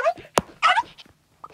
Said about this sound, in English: Just stop barking. You have been barking for the last minute.